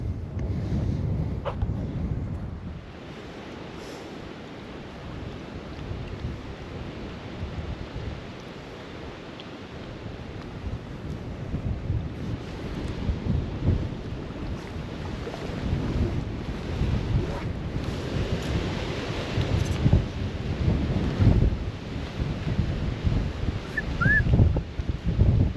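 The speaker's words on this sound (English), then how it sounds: "Pretty blowy." Strong outdoor wind gusts and buffets a microphone beside a salmon river, a rough, rumbling roar that rises and falls in uneven surges and stays loud and continuous with no talk.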